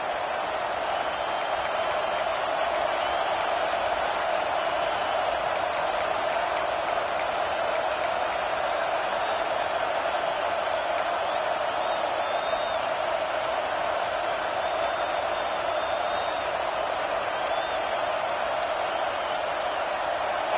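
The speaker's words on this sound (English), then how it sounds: "with this place rocking, the crowd forces a false start" A steady, dense stadium crowd roar fills a College Football 26 playoff game in overtime, loud and unbroken throughout with faint whistles and calls riding on top.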